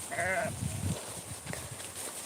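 Sheep bleat once briefly and nearby in an onion field, a short wavering cry followed by scattered low rustling and movement noises.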